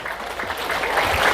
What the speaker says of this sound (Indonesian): Tepuk tangan untuk semua guru kita.